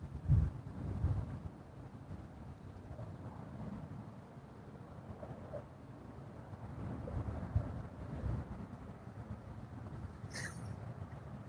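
Wind by a river during a fishing trip buffets the microphone in a low, uneven rumble with occasional stronger gusts, faint and continuous throughout.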